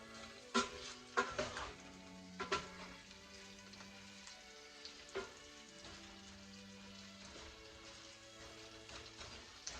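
Potatoes frying in bacon grease in a pan give a steady close sizzle, broken by several sharp clinks and scrapes of a utensil against the pan in the first few seconds.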